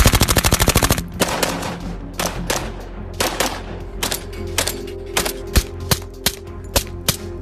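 Rapid automatic gunfire from a shooting competition opens in a dense, loud burst, then gives way to slower single shots and scattered bangs with uneven gaps, some echoing.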